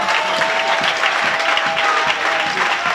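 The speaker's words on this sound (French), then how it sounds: "Acclamez très fort le Seigneur" A church congregation applauds loudly and steadily throughout, a dense, continuous wash of clapping with no pauses.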